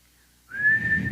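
A person whistles a single sustained note, imitating the whistle a teacher blew on arriving, starting softly and holding a clear steady tone for under a second, close and alone.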